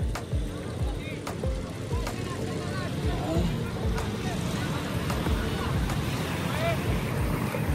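Sea waves wash up over a person standing in the surf at Patenga beach, a steady close rush of water with wind buffeting the microphone and voices talking over it.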